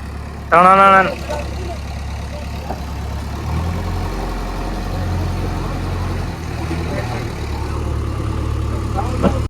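A tractor or JCB engine idles with a steady low rumble, preceded by a brief loud shout near the start.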